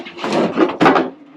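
A heavy expedition camper door is pulled and lowered out of its test fit, giving a close, loud wooden scrape and thump in two short bursts.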